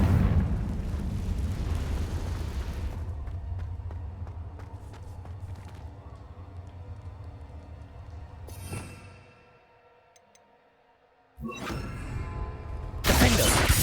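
Confringo blasting spell going off in Hogwarts Legacy, a loud rumbling fiery burst that roars and decays for several seconds, a quieter lull, then renewed crackling blasts near the end.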